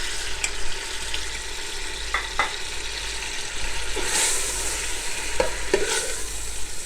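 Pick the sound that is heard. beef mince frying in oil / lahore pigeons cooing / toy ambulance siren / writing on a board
beef mince frying in oil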